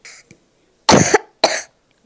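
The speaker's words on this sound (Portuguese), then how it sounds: "essa tosse tá demais agora" Two loud, harsh coughs, close by, following a brief faint voice at the start.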